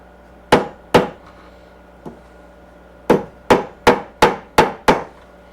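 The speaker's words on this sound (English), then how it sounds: "take this tack and we're going to hammer it down this way" Sharp hammer taps ring out close by as a tack is driven into upholstery: two strikes, a faint tap, then a quick run of six evenly spaced blows.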